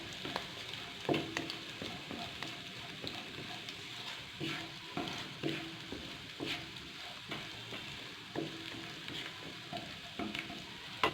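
Ginger-garlic paste sizzles steadily in a pan, with irregular scraping and clinking of a spoon stirring through it; no voices.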